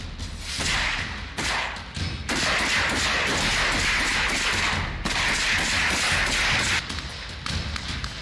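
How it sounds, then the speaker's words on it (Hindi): Rapid bursts of Ukrainian soldiers' rifle gunfire in a forest, loud and close, crackling in dense volleys with brief pauses between them. "ये यूक्रेनी सैनिक जंगलों में मोर्चा संभाले हुए हैं और गोलियों की बरसात कर आगे बढ़ रहे हैं"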